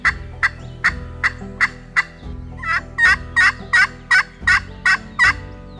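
A hunter's turkey call imitates the gobbling of eastern wild turkeys, giving loud, close, rapid gobble bursts in a regular series, about a dozen in under six seconds, with no talking.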